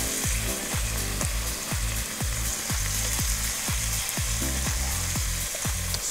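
Beef and vegetables stir-frying in a pan, a loud continuous sizzle with rhythmic scraping strokes of a utensil repeating roughly twice a second, close up.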